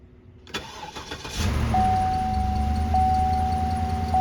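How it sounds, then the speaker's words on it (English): A 2007 Cadillac DTS cranks and fires up, the starter whirring briefly before the engine catches and settles into a steady, close idle with a constant whine over it. "let's start the car and see if it blows the fuse"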